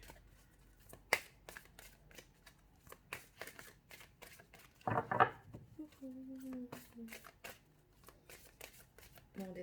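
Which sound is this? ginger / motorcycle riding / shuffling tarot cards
shuffling tarot cards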